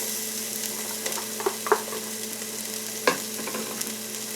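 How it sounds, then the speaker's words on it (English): Garlic, mushrooms and red onion sauté in a pan with a steady close sizzle and a few light utensil clicks and scrapes, with no voices. "You're going to saute your garlic and mushrooms first before you add your spinach in there"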